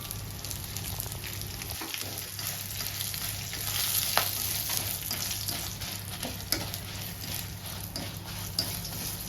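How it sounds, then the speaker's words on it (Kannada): Coriander seeds and cumin with black pepper frying in a pan for a spicy paneer Kolhapuri masala, a steady close sizzle and crackle throughout with occasional stirring scrapes and pops, no voices. "ಈಗ ಮಸಾಲೆ ಎಲ್ಲ ಫ್ರೈ ಆಗ್ತಾ ಉಂಟು."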